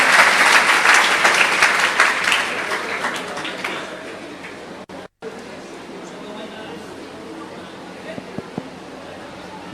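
A crowd at a Jain religious gathering applauds loudly, and the clapping fades over about four seconds. A quieter hall ambience with scattered sounds follows.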